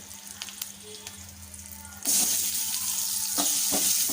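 Sliced onion with turmeric hits hot oil in a pan with a sudden loud sizzle that swells and keeps frying steadily, after a quieter stretch of faint clinks and kitchen noise.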